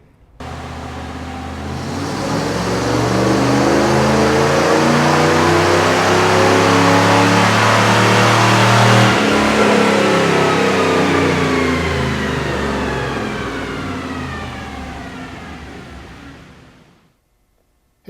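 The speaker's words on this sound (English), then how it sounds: "we're going to get the car loaded up and run some passes on it" A 1989 Camaro F-body engine revs hard and accelerates through a long pass, the loud mid-range roar holding steady before cutting off near the end, with no talking.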